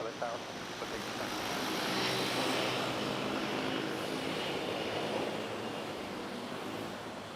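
Aircraft engine roar at Manila's NAIA airport during plane spotting, a steady broad rumble building and holding across the whole stretch, with faint talk in the background.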